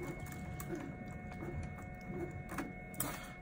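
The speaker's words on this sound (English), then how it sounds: "you can actually see the motor moving that feeds the filament through" The filament-feeding motor of a FlashForge Adventurer 3 3D printer gives a faint, close mechanical whir with steady tones and light ticking, with no talk over it.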